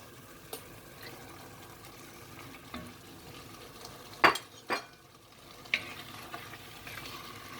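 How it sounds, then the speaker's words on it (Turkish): Okra tipped into a pan of minced meat seasoned with sumac, followed by a gentle sizzle and a few sharp clinks and scrapes of a utensil against the pan, mostly quiet and close. "Şimdi bamyalarımızı bırakıyoruz."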